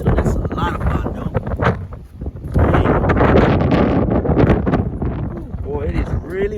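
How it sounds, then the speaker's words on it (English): Wind blows outdoors at a junkyard around a stripped 1970 Cadillac Coupe DeVille, gusting loudly against the microphone, with someone talking over it. "Boy, it is really windy out here, guys."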